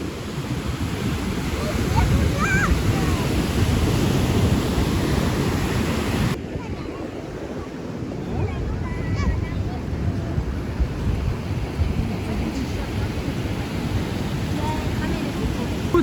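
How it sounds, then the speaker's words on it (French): Ocean waves at Grand-Anse beach on Réunion rumble and wash in a continuous, fairly loud roar, mixed with heavy wind buffeting against the microphone. "Mais regardez les vagues."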